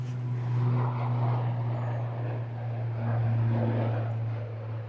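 An Aer Lingus ATR 72 turboprop heading out from Manchester Airport, a steady low propeller drone with a constant hum, moderately distant and even throughout.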